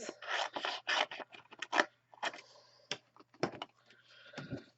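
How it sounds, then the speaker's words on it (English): Scissors snip roughly through the stems of stamped paper flowers in a card-making session, a quick series of close crisp cuts and rustles, with no talking. "I will just roughly chop off my stems"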